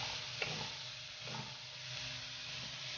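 String beans frying in a pan with ground meat for a Bicol Express-style dish give off a steady, soft sizzle and hiss, with a couple of faint stirring scrapes, no voices.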